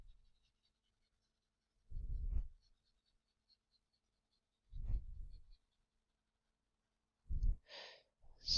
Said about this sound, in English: Just I quickly erase this part.